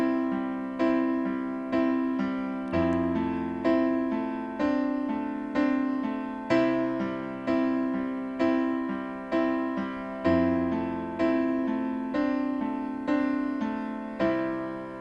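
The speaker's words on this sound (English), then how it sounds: "So now we're going to practice our first broken up chord progression, which is going to sound like this." Piano playing a broken chord progression, with chord notes struck one after another in a steady repeating rhythm, each group decaying before the next, played alone at moderate volume.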